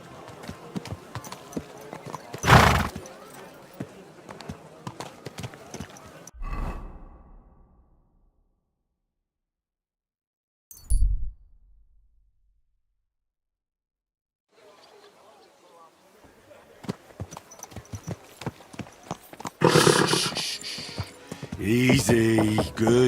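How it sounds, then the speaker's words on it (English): Horse hooves clip-clop in the Kingdom Come Deliverance 2 video game, a run of close, fairly loud steps that break off into a quiet gap and then pick up again toward the end, with a rider talking over them. "Easy, good horse."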